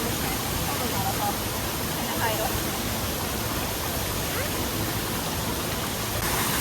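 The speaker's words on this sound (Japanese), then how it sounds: "ちょっと滝の方にも行ってみましょう。" Steady broadband rush of a waterfall on a hot spring river, the water roaring continuously and fairly near with no clear breaks, while a voice talks faintly underneath.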